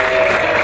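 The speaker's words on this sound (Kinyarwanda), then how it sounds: "mama shenya amashyi n'impundu byivugo n'amahamba" Guests at a Rwandan wedding celebration clap and ululate in a brief, dense burst of crowd sound carrying a sustained high trilling tone.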